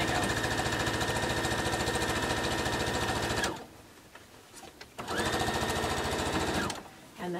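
A sewing machine stitches a seam on a T-shirt quilt, a fast rhythmic mechanical chatter that runs loud and close, pauses briefly, then starts again for a second burst before stopping.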